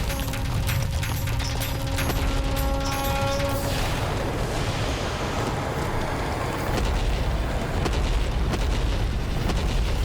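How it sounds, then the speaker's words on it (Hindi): A deep, roaring explosion rumbles on under a dense wall of dramatic noise and ringing tones, loud and sustained for several seconds, in a mythological TV drama. "विस्फोट।"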